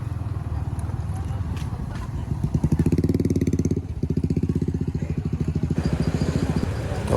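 KTM Duke 390 and RC 390 motorcycles revved by riders gathered at a stop, close, loud pulsing engine bursts and rapid firing rhythms that rise and settle, with voices faintly in the background.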